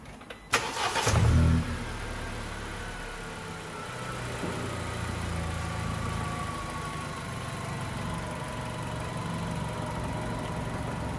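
A car engine cranks briefly during a battery tester's cranking test and catches, then settles into a steady, close idle that runs on alone without any talking.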